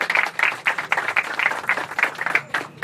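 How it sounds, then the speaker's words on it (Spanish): A small crowd claps at the inauguration of an announcers' walkway in La Romana, Dominican Republic, producing a brisk, fairly quiet patter of claps that holds steady throughout. "Un aplauso"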